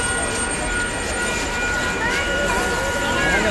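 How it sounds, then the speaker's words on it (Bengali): An arriving train rumbles as a broad, steady roar with faint high squeals from the wheels, close by at a station, while people talk over it. "ট্রেন চলে এসছে, এবার আমরা উঠে যাব ট্রেনে।"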